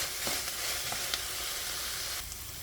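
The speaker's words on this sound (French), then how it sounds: "Une fois que les légumes ont bien sué dans la poêle" Vegetables sweating in a frying pan make a soft, even sizzle, fairly quiet and continuous, with a few faint clicks and no talking.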